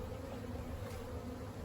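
Honey bees drone steadily at an open hive whose frames have been lifted out, a dense, close, continuous buzz with no break across the short stretch.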